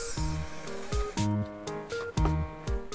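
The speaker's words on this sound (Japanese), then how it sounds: "次は潤滑スプレーを拭いてみます。" Lubricant spray is applied to parts of an Aladdin J38 kerosene stove under restoration, with short hissing bursts close by over steady tonal background sound.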